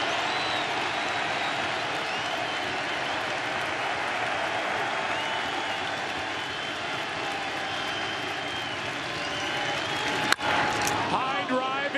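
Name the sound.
baseball crowd cheering at World Series game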